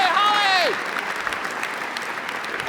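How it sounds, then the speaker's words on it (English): A keynote audience applauds loudly, a dense steady wash of clapping from a crowd in a hall, with a brief whooping or whistling voice at the start and a speaker talking over it. "give them one more round of applause, especially Holly"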